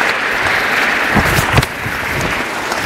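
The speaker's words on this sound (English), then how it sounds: "One more round of applause for those." Applause at a Washington and Lee athletics award ceremony: a loud, continuous roar of clapping from the audience, with a few sharper individual claps standing out midway.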